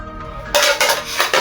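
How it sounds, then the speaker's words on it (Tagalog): Spoons and plates being handled while packing food for a mountain trip, giving a few bright clinks and clatters of cutlery against dishes in short bursts, close and fairly loud, with no talk. "Kaya 2 kutsara. Saka 2 plato."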